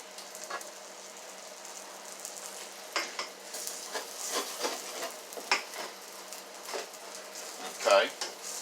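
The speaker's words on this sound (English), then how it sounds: "I'm going to stir it around" Canned corned beef cooks in a pot on the stove, with soft sizzling under scattered scraping and tapping as a utensil stirs it around the pan, fairly close, with quiet background noise.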